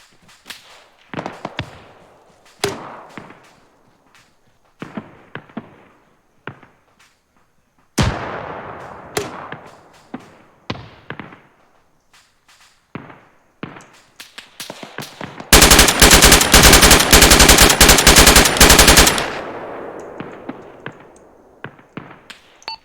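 Gunfire from enemy contacts in Arma 3, with scattered single sharp shots and short bursts, then a long loud sustained machine-gun burst before trailing off into sporadic shots.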